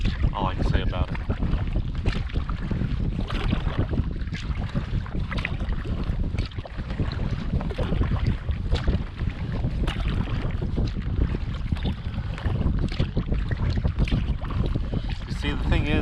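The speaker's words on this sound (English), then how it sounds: "We're just paddling." A canoe is paddled down the Yukon River. Wind buffets the microphone throughout, with water splashing and rushing close by and a voice heard faintly under the noise.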